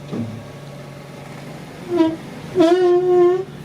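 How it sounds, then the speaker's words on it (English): Rear brake on a 2007 Mazda 3 screeching while the car reverses, a tonal squeal that starts briefly, then returns louder and holds for about a second. "When you back up the car or you reverse the car, you can hear a screeching sound."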